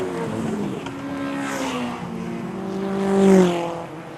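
Pure stock four-cylinder race cars roaring around a short track during a heat, engine tones rising and falling as cars pass, with one car swelling louder nearby toward the end.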